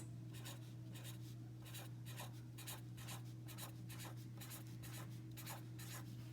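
A marker drawing on a whiteboard to work out a math problem, heard as steady rhythmic squeaking strokes repeated many times, close and clear over a constant low electrical hum.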